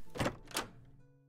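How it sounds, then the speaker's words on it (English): Two soft thuds in quick succession, like a door pushed shut and latching, fairly quiet and close, followed by faint room hum. "She waves cheerfully before shutting the door."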